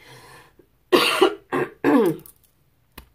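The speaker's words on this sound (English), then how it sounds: "I still have a little lingering cough going on." Several close, raspy coughs in quick succession, with a short pause between them, then a faint click at the end.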